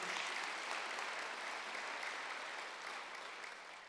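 A church congregation claps together at a Korean Wednesday worship service, a dense, steady wash of applause that holds strong before easing off slightly toward the end.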